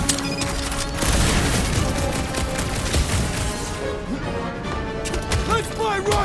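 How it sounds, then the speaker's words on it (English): Chaotic gunfire and explosions in the Guardians of the Galaxy video game, with rapid cracks and booms layered over combat noise, and voices calling out amid the battle. "Sounds like a lot of flark and gunfire!"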